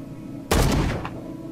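A single loud gunshot in Call of Cthulhu cracks out after a quiet pause, its boom ringing and decaying over about half a second with a faint trailing echo.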